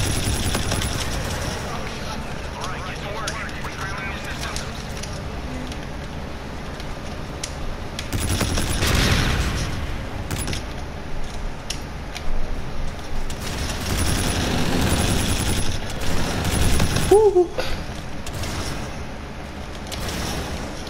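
NV4 rifle gunfire in Call of Duty: Infinite Warfare multiplayer, rapid automatic bursts rattling on and off throughout with sharper cracks, dense and loud, under game sounds and some talk.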